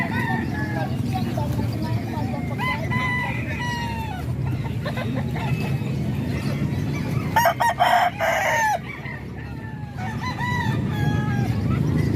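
Chickens cluck and a rooster crows nearby, with people talking over the birds throughout.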